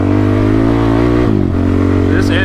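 A TRX engine fitted with a fresh exhaust runs loud and close, holding a steady throbbing idle before a brief rev dip and recovery.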